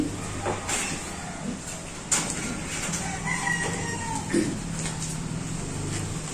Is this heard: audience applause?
no